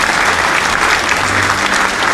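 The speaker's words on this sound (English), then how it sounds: "Everybody's clapping so loudly" Loud, dense applause from a large audience at a corporate awards ceremony as a gold winner is announced, steady and sustained throughout without a break.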